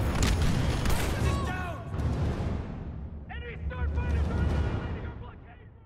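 Heavy cannons boom and rumble in Star Wars Battlefront II story mode, with repeated blasts and laser-like zips layered over dense battle noise, while voices talk over the fighting.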